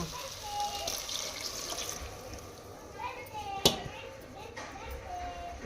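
Water poured into dal while it cooks makes a soft running, splashing trickle with a few light clinks, fairly faint, while voices talk nearby and children can be heard in the background.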